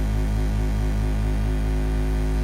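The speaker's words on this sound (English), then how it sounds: "there's that classic PWM sound that Roland is so famous for" A steady, buzzing Roland System-700 analog synthesizer tone with slow pulse width modulation wavering in its timbre, sustained and fairly loud with no other sounds.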